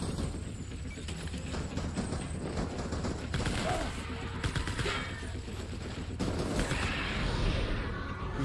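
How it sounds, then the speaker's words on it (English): Sustained gunfire from the Clifford Unger boss fight in Death Stranding on PS5, a dense, continuous crackle of rapid shots with bursts that swell and fade over a steady battle din, loud and close throughout. "Who's shooting at me?"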